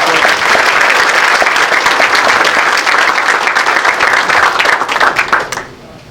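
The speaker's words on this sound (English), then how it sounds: "So I'd like you to join me in a round of applause" A meeting audience gives a loud round of applause, dense clapping close by that carries on steadily before tapering off quickly at the end.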